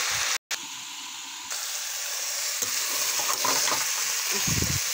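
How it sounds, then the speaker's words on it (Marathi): Tomatoes and beans stirred while frying in a pan on low heat, a steady close sizzle with a brief gap early on, then scraping stir strokes and a louder burst of clatter near the end, no talk. "आता आपण टमाटर घातलो, आताच घातली जस्ट, आणि डवलून दाखवत आहे तुम्हाला"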